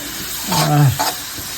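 A spoon stirs bitter gourd curry frying in oil in a pan on the stove, producing a brief scrape and sizzle, close and loud, over steady background hiss.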